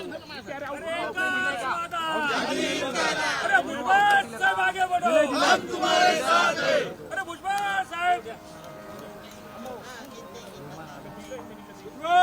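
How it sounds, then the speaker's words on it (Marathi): A large crowd of political party workers cheers and chants slogans together at an oath ceremony in Nashik, many loud overlapping voices that thin out toward the end. "कार्यकर्त्यांचा जल्लोष आपण पाहतोय घोषणाबाजी केली"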